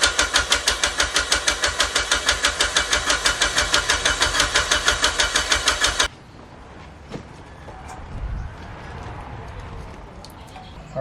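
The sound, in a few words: Mitsubishi Evo 9 MR car engine starting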